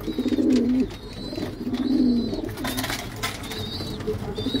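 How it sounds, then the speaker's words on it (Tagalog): Newly imported pigeons in a loft coo in low, rolling phrases, repeated about three times, close and clear over a soft background with faint higher chirps. "Pwede na yung bagong dating yung ibon, oh."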